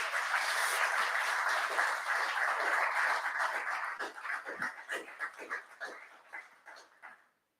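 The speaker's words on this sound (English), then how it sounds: "So let's give the sponsors a big round of applause," Audience applause for sponsors at a Games Talks Live event in Dundee, a dense round of clapping from a crowd that holds steady, then thins into scattered claps and fades out.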